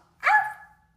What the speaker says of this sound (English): Bark like a dog.